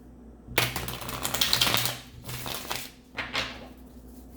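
Crisp, papery riffling of tarot cards being shuffled in several bursts, close by, with brief pauses between shuffles and no talking.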